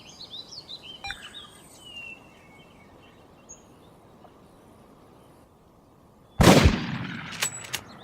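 In a Cabela's Outdoor Adventures hunting video game, birds chirp faintly before a single loud shotgun blast at a flushing pheasant, with a sharp crack and a decaying tail.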